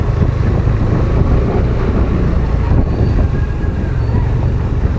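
Riding a motorcycle on a motovlog commute through shortcuts, with a steady low engine drone and heavy wind rush on the mic, loud and continuous throughout.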